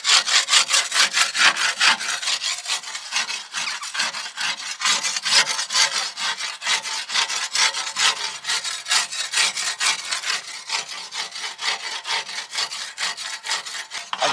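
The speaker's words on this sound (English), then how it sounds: "So what I do now is I scrape down like this." Rapid rhythmic rasping scrapes inside a narrowboat stove flue pipe, a scraper pushed down repeatedly in steady strokes, close and fairly loud with no talk over it.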